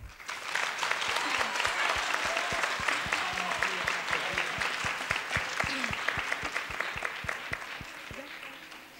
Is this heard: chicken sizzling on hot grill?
no